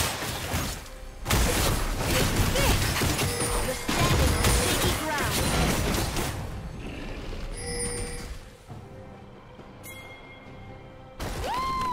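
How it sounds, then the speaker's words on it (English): Turret destruction in a League of Legends match: a dense crash of impacts and bursts over game music and effects, then fading into lighter chimes and tones before a final rising cue. "Blue team's turret has been destroyed."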